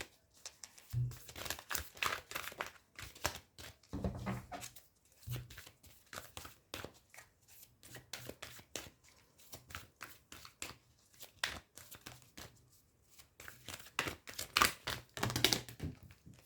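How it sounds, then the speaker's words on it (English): Oracle cards shuffled and drawn from a deck produce a long run of rapid, dry flicking and riffling clicks, close and fairly quiet, in uneven bursts separated by short pauses. "I feel like drawing more cards for this reading"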